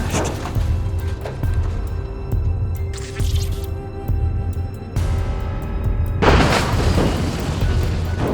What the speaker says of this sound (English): and the car crashed.